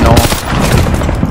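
Dense gunfire from the Call of Duty Vanguard multiplayer video game, a loud continuous burst of overlapping shots filling the whole moment.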